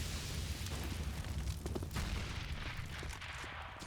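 Grenades burst amid steady gunfire on the Inferno map in Counter-Strike, a dense, continuous wash of booms and shots that carries through the whole stretch at moderate loudness.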